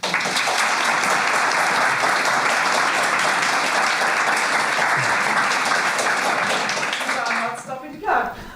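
An audience at Vision Weekend Europe 2024 applauds after a talk on whole brain emulation ethics, a loud, sustained wash of clapping that drops off near the end, where a voice comes in briefly.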